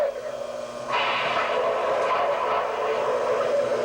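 Lionel model train pulling into a toy station, a steady hissing rumble that swells suddenly and holds, close and continuous with a faint background hum.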